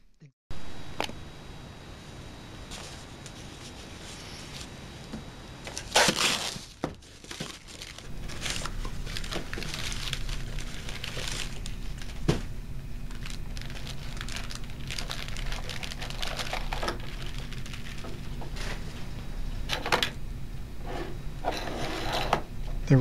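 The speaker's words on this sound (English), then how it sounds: "Here is a printer connected to a PC using a parallel printer cable" A PC-connected printer prints text fed over a parallel cable, its print mechanism giving steady mechanical whirring and clicking at close range, broken up by short sharper bursts of movement.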